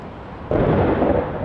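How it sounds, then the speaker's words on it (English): A single low roll of thunder breaks in about a third of the way through and rumbles on steadily to the end, heard outdoors during work on a Johnson outboard lower unit on a Bass Tracker boat, with no talk. "Ooh, thunder."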